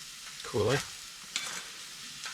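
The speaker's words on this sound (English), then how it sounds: "Hash browns and bacon. That smells really good." Hash browns and bacon frying in a pan inside an ice fishing tent on a lake in Labrador, a steady soft sizzle with a brief louder scrape or stir near the start and another short burst later.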